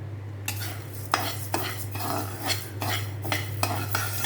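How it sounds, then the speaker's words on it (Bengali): Mung dal lentils are dry-roasted in a hot wok, a spatula scraping and stirring them in regular strokes about every half second, with a low steady hum beneath and no talk. "এখন এই ডালগুলো হালকা টালিয়ে নেব।"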